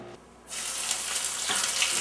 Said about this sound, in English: I'm going to take my jalapeno pepper poppers and I'm going to cook them on my stove using my grease